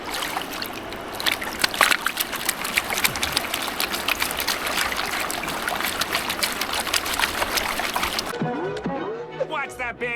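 Water sloshing and splashing as gravel is washed by hand before gold panning after a flood, a continuous close trickling and splattering with scraping of stones, ending abruptly with a short burst of talk.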